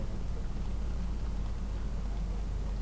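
A steady 19 hertz test tone, a very low hum, drones continuously with no change in level, a deep rumbling tone sitting beneath faint background hiss.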